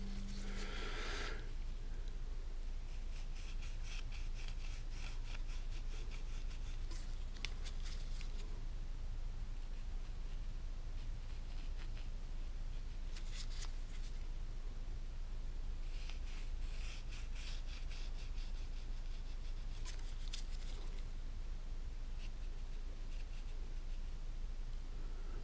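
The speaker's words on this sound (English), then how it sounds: "all I gotta do is take this off to the line, sand it down from the line all the way up to the brass line" Sandpaper rasps back and forth over knife handle scales on a Sodbuster knife, worked down toward a brass line, giving repeated faint scratchy strokes in uneven bursts against a quiet background hum.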